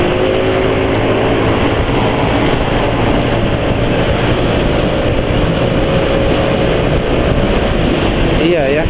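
A Vespa scooter engine pulls hard under acceleration on a test ride, a loud continuous roar with wind buffeting that stays close and dense throughout, while riders talk over it.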